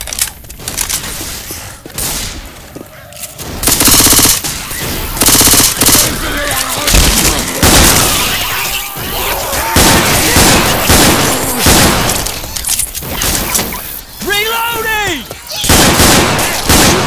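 Near-constant gunfire fills a round of the game Left 4 Dead 2, with loud rapid automatic bursts and single shots overlapping, plus a few booms and other game effects.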